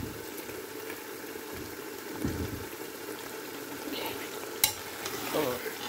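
Chicken pieces fry in a pan for a chicken potato curry, giving a steady sizzle with stirring scrapes and one sharp clink.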